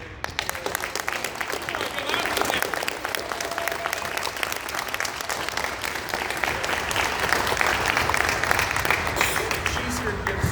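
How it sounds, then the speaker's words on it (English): Sustained audience applause honoring a player's mother at a coach's scholarship speech, dense steady clapping across the whole stretch, growing slightly louder toward the end. "I would just like to give a round of applause to his mother"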